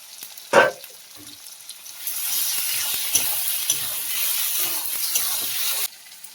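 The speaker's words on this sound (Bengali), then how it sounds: "আলুটা টমেটোটা ভাজা হয়ে গেছে, এবারে বেটে রেখে দিয়েছিলাম আদা জিরে আর কাঁচা লঙ্কাটা দিয়ে দেবো" Ginger, cumin and green chilli paste going into frying potato and tomato: a loud thud, then a steady sizzling hiss with stirring scrapes for several seconds before it suddenly drops away.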